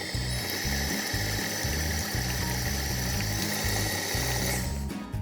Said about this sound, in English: So if you're also using a KitchenAid mixer, I've added it to like the 6 mark.